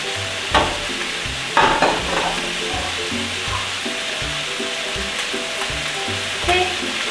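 Cabbage goes into a pot of borscht broth at a boil, bringing a steady bubbling sizzle with occasional louder splashy stirs and clunks, close by and without voices.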